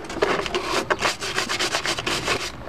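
Scrubbing the inside of a fish-smelling cooler cleaned with Drano Gel Max, heard as fast, rhythmic rubbing strokes, close and fairly quiet, with no talk over it.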